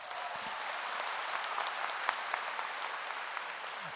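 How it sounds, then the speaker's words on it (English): Audience at a Q&A session with Prime Minister Justin Trudeau applauding, an even wash of many hands clapping at moderate volume, slightly distant, with a few sharper individual claps standing out. "So everyone give him a round of applause."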